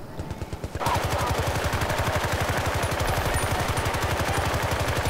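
Rapid automatic gunfire in the multiplayer video game Battlefield Bad Company 2, a loud, sustained burst of evenly spaced shots firing in a steady stream after a quieter opening.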